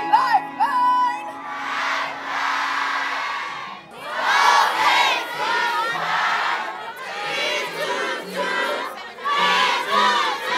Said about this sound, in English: Can I hear you say Lifeline?